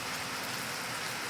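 Heavy rain pours steadily over a town centre, a dense, even hiss of drops on hard surfaces, fairly close and constant throughout with no voices.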